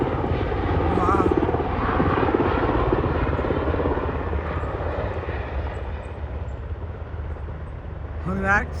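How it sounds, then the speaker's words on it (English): A helicopter comes in to land close by, its rotor and engine drone loud and continuous throughout while a person talks over the noise. "Oh, here comes a helicopter"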